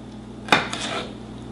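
A single sharp knife stroke hits a cutting board, slicing food into small pieces for chicken pad Thai, with no talk over it. The crisp chop sounds close and clear.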